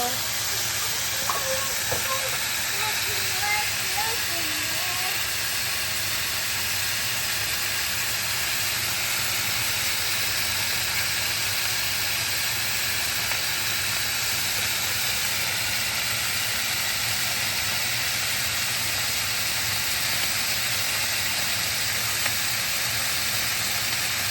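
Steak sizzles steadily in a hot pan, a constant, even hiss that runs without a break for over twenty seconds, close and moderately loud.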